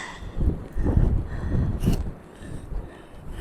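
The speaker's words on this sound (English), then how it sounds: "it is very windy and raining" Gusty wind buffets the microphone in low, rumbling surges that rise and fall, loud and close, with no voices, in windy, rainy weather at Porthcawl.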